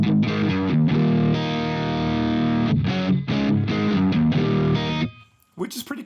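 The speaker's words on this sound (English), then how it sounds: "so that's the first setting it comes up with when you turn it on. It sounds like this." Electric guitar run through a Brainworx Friedman BE100 amp plugin on its default setting, heavily distorted; loud chugging riff with sustained overdriven chords and short choppy breaks, cutting off near the end into a brief quiet tail.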